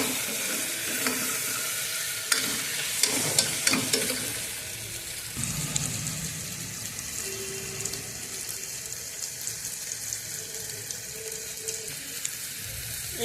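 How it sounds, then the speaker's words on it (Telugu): Vegetables frying in a pot for a vegetable biryani, stirred now and then, with steady soft sizzling and a few scraping clatters early on, close by and without talk. "మధ్యలో ఇలాగ మాడిపోతూ ఉంటుంది కదా, ఇలా కలుపుకోవాలి."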